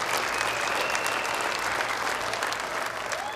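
A studio audience applauds a dance crew's stage performance at a televised dance show, dense steady clapping from many hands that stays loud and even throughout.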